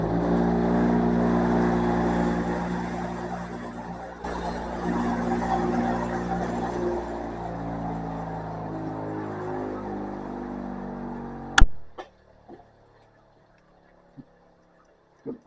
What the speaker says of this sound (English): So we're going to take it right over here on this little grinder I've got over here,